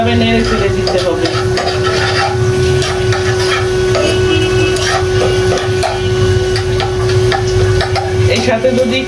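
Puffed rice tossed with lightly browned onions in oil in a pan, stirred continuously, giving a steady dry rustling and scraping over a constant low hum.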